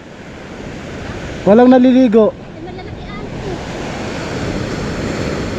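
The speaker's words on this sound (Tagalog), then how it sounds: "Tignan, lalaki ng alon no" Heavy ocean surf on the Zambales coast, Philippines, roars steadily throughout, a broad wash of crashing waves, with a person speaking briefly over it near the start.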